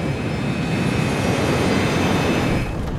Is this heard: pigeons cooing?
no